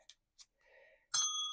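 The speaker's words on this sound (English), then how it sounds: "and ring that bell" A small bell is struck once with a bright, clear ding that rings on and fades slowly, preceded by a few faint clicks and soft handling sounds of paper and clips.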